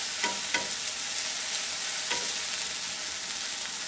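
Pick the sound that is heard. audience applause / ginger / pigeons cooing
ginger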